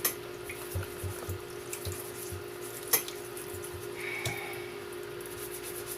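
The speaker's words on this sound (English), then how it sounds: "So I'm going to scrub my potatoes up." Potatoes scrubbed by hand under a running kitchen tap, a faint steady stream of water with occasional soft knocks and drips in the sink, no talking.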